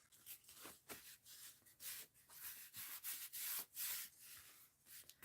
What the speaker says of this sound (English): Burnish that down.